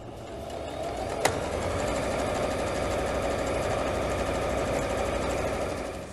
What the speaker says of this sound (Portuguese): E vou passar uma costura aqui.